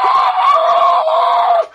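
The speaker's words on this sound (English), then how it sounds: "You just hear screaming." A single sustained scream, high and loud, holding steady for well over a second before cutting off abruptly, heard alone and close.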